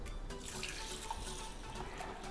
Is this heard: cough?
no